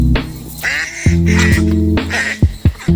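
Ducks quacking at a campus duck pond, a burst of loud nasal quacks and honking calls in quick succession, close by, with several birds calling over one another.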